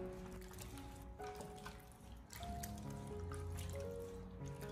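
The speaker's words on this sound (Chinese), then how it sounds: "我们用手将它不停的清洗一下，清洗掉猪蹄上面残留的一些血沫。" Blanched pig trotters being rinsed by hand in a basin of clean water, a steady close trickle and dripping with sloshing, continuous throughout with no talk.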